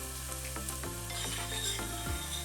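Garlic sizzles steadily in a pan over medium heat, a continuous close frying hiss with a few faint clinks and stirring touches, no voices.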